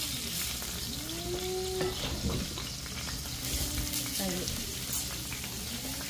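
Pork chops sizzle and fry steadily in a hot pan, a continuous crackling hiss throughout, with a few brief clatters and a voice talking faintly in the background.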